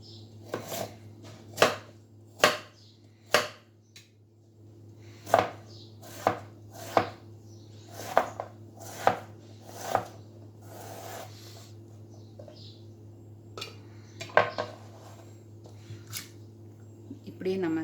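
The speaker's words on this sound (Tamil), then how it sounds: "இப்படியே நம்ம இதை கட் பண்ணி எடுத்துக்கலாம்." A knife chops through banana stem on a board in a steady run of crisp, close, evenly spaced strokes, about a dozen in all, with a low steady hum underneath and a brief pause partway through.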